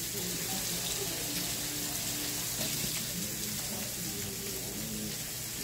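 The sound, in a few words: rinsing food under running tap water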